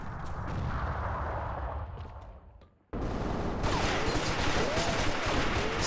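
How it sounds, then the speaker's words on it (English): Gunfire from a Counter-Strike match in a professional esports tournament, dense bursts of shots with explosive bangs, loud and continuous after a brief drop in level, with game sound around it. "Scad taking some bullets in mid as Diego's trying to take him down"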